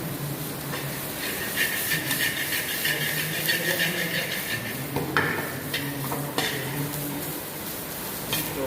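Cabbage and mushroom sauté in a pan, giving a steady sizzling hiss with occasional stirring scrapes and clinks, close and continuous.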